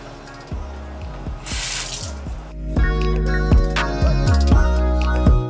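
Water runs from a bathroom tap into a sink during a morning face-washing routine, a steady close splashing stream with repeated dripping and handling sounds, growing louder partway through.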